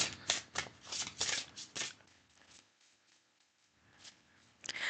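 A deck of tarot cards is shuffled close up, riffling in quick crisp bursts for about two seconds, then going quiet before a brief final flutter.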